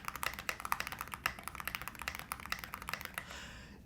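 Rapid keystrokes tap on a Tiger Lite mechanical keyboard fitted with SA keycaps, a steady close-up clatter of quick, slightly uneven presses that ends in a brief pause.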